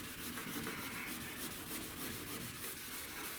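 Steady, quiet rubbing of a wet sanding pad across a car body panel during prep before buffing, a continuous soft abrasive swish with no talking.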